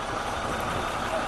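A truck pulls in to help with a community cleanup in the São Raimundo neighborhood of Amontada, its engine a steady, loud rumble that fills the scene with a faint murmur of activity underneath.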